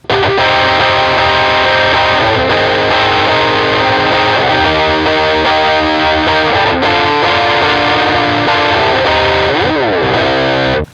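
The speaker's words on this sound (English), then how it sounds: "Mostly an overdrive sound there, a pretty basic sound if I'm honest." Electric guitar played through heavy overdrive distortion with the whammy pedal off; sustained gritty chords and bends, loud and continuous with no voices.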